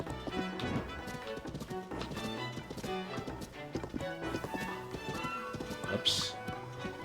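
Rhythmic horse hoof clip-clops in Zelda: Tears of the Kingdom, a quick regular trot blended with game music, fairly quiet and steady throughout.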